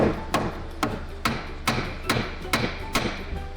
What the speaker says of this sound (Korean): 혹시나 이게 분해를 했을 때 감속기가 나올 수도 있으니 한번 쳐주십시오 고무망치로